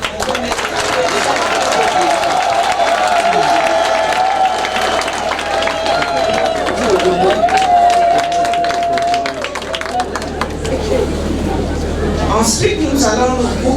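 Guests at a customary and civil wedding applauding loudly and continuously as the couple is presented, with cheering and crowd babble woven in, while an amplified voice carries over the clapping until it thins near the end.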